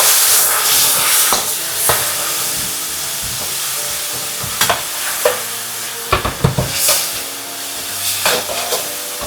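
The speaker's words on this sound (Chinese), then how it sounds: "快速翻炒均勻" Long beans stir-fried over high heat in a wok with oyster sauce, soy sauce, salt and sugar: a steady close sizzle broken by sharp spatula scrapes and clanks, several clustered strikes near the end.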